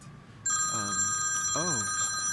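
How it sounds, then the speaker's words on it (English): A telephone rings steadily and loudly through a music-related interview, its sustained electronic bell tone cutting in and holding while people talk underneath. "A phone interruption."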